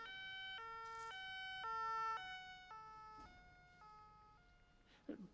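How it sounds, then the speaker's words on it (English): An ambulance siren wails in a steady two-tone pattern, moderately distant, with faint traffic rumble beneath and a brief clunk near the end. "Look, it's an ambulance."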